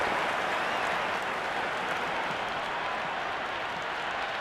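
A stadium crowd cheering and applauding during an India versus New Zealand match in Cricket 26, a dense, steady roar of clapping and shouting that holds evenly throughout, filling the space with no distinct voices.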